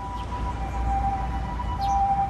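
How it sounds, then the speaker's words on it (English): An ambulance siren wails through a Tokyo neighborhood on a Saturday morning, a steady two-tone call that carries clearly above low city rumble, heard from a small garden with no one talking. "Ambulances, I think that is"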